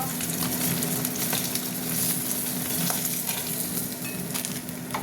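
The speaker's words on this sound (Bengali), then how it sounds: "ভাজা হতে থাক বন্ধুরা।" Steady, loud sizzling of fish frying in hot oil, a constant crackling hiss with scattered pops throughout.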